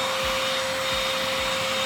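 A Dibea C17 cordless stick vacuum cleaner runs with a steady, close motor whine, with a few soft low thumps recurring through it and no talking.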